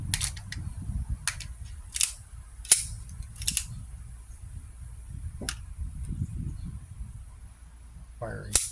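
A Crosman P1 air pistol fires a rapid series of sharp, close snapping shots at a target, about eight to ten cracks spaced irregularly over a low rumbling background, with no talk.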